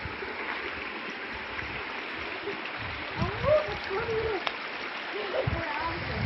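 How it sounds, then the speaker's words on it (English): Creek water flows and splashes steadily as hikers cross it on a waterfall nature hike, a soft continuous rush with a few brief splashes, heard close under occasional voices. "You gotta cross the creek."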